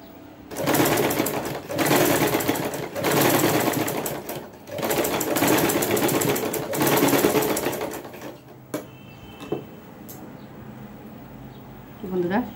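A sewing machine stitches a collar in several loud bursts of rapid whirring separated by short pauses, followed by quieter handling sounds and a person speaking near the end.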